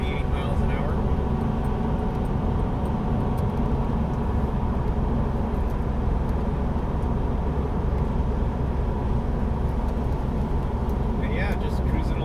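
A car engine cruises in third gear at about 2,400 RPM and 48 mph, giving a steady, dense, low rumble with road and wind noise that stays constant throughout.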